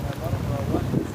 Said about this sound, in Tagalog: Mahangin eh. Hangin kasi.